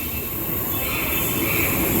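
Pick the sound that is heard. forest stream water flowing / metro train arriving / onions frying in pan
metro train arriving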